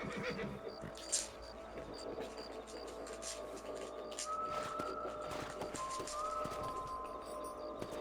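A horse whinnies amid Red Dead Redemption game ambience with birds cooing and chirping, a steady background bed and occasional brief taps.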